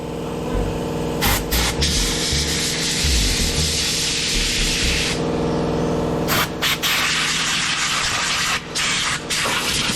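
Compressed air blasts undercoating dust off an original truck fuel pump, a loud, continuous rushing hiss with a few brief breaks and shifts in intensity.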